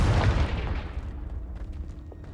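A Confringo blasting spell exploding in the Hogwarts Legacy video game, a loud booming burst right at the start that decays over a couple of seconds into a low rumble with faint debris crackles.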